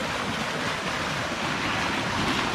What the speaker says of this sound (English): You can hear the water flooding out the bottom of this pipe